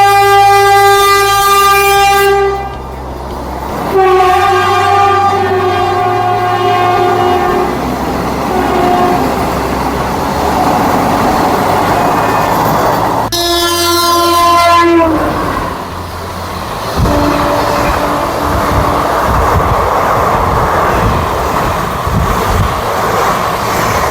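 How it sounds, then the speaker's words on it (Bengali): A train at a railway station rumbles past loudly and close, with repeated long horn blasts sounding over the steady rolling clatter of the wagons. "চলুন আমরা আবার ট্রেন ধরবো"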